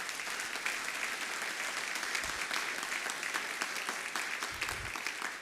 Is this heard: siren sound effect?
no